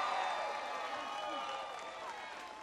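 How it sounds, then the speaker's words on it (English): Faint, distant crowd applause from an audience at a college speech honoring the Secretary of Labor, a soft even roar of clapping and murmuring that slowly fades. "Give Tom a big round of applause."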